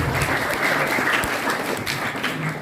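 Loud, continuous applause from a group of students at a storytelling and magic session during an Islamic school holiday camp, filling the short stretch alone.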